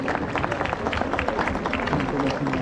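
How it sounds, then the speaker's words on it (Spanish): Festival audience applauding at a Virgin of El Quinche celebration, a dense, steady wash of many hands clapping amid crowd noise that fills the space without pause. "Que se escuche ese aplauso."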